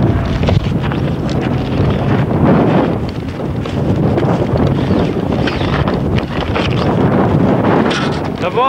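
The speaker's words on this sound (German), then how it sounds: "Ruckzuck hat uns der Wind runtergewaschen." Strong wind roars continuously across a microphone at a hang gliding and paragliding site in Buching in 1992, a loud, steady buffeting rush with gusty swells throughout.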